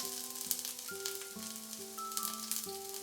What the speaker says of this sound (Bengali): তেলটা গরম হয়ে গেলে এর মধ্যে দিয়ে দিচ্ছি একটা বড় সাইজের কুচানো পেঁয়াজ